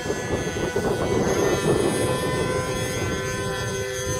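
RC model airplane engine during a crosswind takeoff, a loud continuous buzzing whine with a slightly rich-running motor, steady and close.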